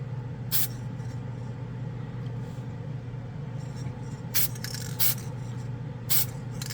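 An aerosol can of Alclad chrome sprays onto a bare plastic spoon in several short hissing bursts over a low background hum, near and distinct, without speech.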